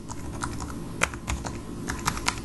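Rapid typing on a computer keyboard, with irregular, close key clicks and a few sharper taps, heard alone without speech.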